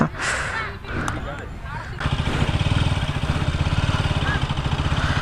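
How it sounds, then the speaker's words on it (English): A KTM RC 200 motorcycle rides off-road over uneven grass, its engine rising from a quieter start into a steady, close, loud drone with a fast pulsing rhythm. It plays alone, with no talk. "let's roll now again with this beautiful thing, KTM RC 200"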